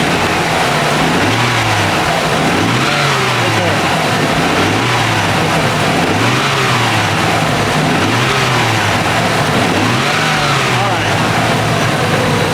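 A Nissan 300ZX twin-turbo engine revs repeatedly, rising and falling in a steady rhythm of about six revs, loud and close, with a voice speaking over it.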